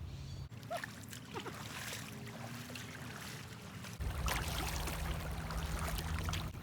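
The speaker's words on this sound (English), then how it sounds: "let's paddle some boats." Steady watery swishing of a fishing kayak paddle moving through water, fairly close, with low rumbling background noise that grows louder partway through.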